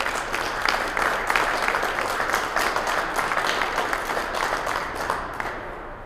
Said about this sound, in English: let's give them a big round of applause and say thanks for 69 years.